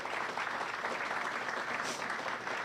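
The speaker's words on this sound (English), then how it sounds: "And yes, you should clap for that." Audience applause at a headquarters ribbon-cutting ceremony, a dense, steady wash of clapping from a crowd that holds at an even, moderate level throughout without pause.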